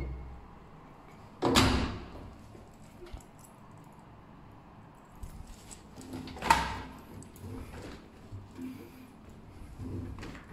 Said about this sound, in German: Die Maschine ist fertig, die Tür kann geöffnet werden.